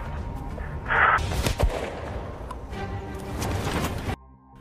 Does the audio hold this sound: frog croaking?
no